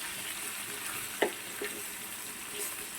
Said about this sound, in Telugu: చక్కగా వేగుతున్నాయి కదా చూసారా